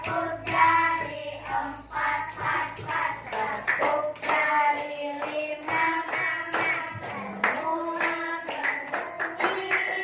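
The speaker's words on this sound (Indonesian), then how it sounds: "tepuk tangan untuk semua" A class of pupils claps their hands in a lively rhythm, with young voices chanting or singing along throughout, close and moderately loud.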